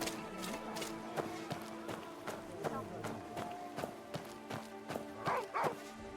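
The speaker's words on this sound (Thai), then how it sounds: "เจอหมาตัวเดิมเห่าอีกแล้ว" A dog in the game Where Winds Meet barks in a run of sharp repeated yaps against rhythmic footsteps and ambient game sound, moderately loud, with someone talking over it.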